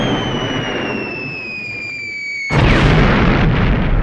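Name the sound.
explosion sound effect from TV show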